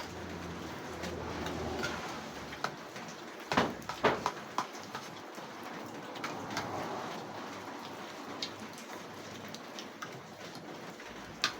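Steady rain falls on a surface during cold, wet weather, a dense even patter with a few sharper drips and knocks, heard without talk.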